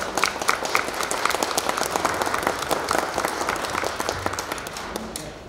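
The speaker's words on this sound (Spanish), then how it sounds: "Un fuerte aplauso para..." Applause breaks out for the couple at a civil wedding, a dense spell of clapping from the guests that holds steady throughout before easing off at the very end.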